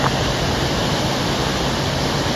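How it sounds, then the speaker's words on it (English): King's Creek flows through Lassen Volcanic National Park, a constant, even rush of water that holds a dense hiss from start to finish, close and fairly loud with no voices. "It has a creek running through it."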